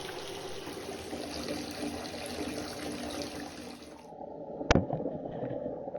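Lukewarm water in a home bathtub sloshes and trickles continuously, then goes quieter before a single sharp splash or knock near the end, as a small Zelda figure is placed underwater to test a cheap action camera.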